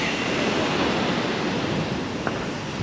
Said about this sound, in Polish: Nie wiem, czy słychać tutaj to morze szumiące w oddali.